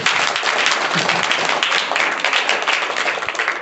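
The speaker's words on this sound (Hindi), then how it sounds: "वेरी फाइन, ताली बजा दो" Steady classroom clapping from a group of students, a dense continuous patter that holds for the full few seconds without a break.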